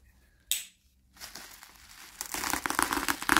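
Crinkling plastic wrap is peeled and crushed from a Faber-Castell Black Edition package, with a sharp rip near the start, then steady, growing crackles of handling close by and no speech.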